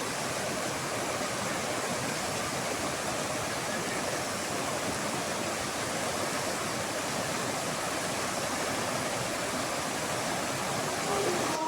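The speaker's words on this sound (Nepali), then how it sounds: "खोला बढेछ है" A swollen mountain stream rushes as a constant, broad roar of water, steady and fairly close throughout, with no clear talk.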